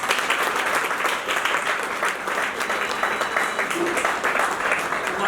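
A hall audience at a university event claps loudly and continuously in welcome of a guest, a dense steady applause with no pauses.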